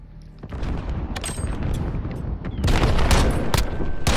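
Grenade blasts and gunfire in a Call of Duty Modern Warfare 2v2 Alpha match, with a loud rumbling explosion followed by dense bursts and sharp cracks that continue without talk.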